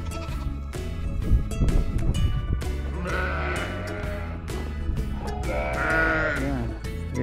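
Black goats bleat over and over in a lively chorus, some near and loud, others further off, with a few faint voices in the background.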